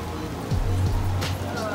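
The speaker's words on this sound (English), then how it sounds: "Oh, it's kind of raining." Light rain patters in a backyard in the Florida Keys, a soft steady hiss beneath a low hum and brief faint voice sounds.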